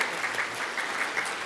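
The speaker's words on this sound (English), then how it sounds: "If you'll give them a round of applause." Brief, faint applause from an event audience acknowledging staff, a soft continuous patter of clapping heard at some distance.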